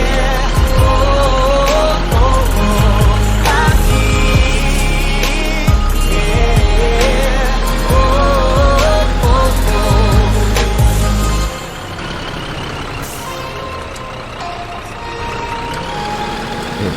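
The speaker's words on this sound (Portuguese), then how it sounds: "Ó o freio motor." Scania 113 flat-nose truck engine brake on a road trip to Rio de Janeiro, a loud, steady low rumble with rhythmic pulses that drops off sharply near the end, no talk over it.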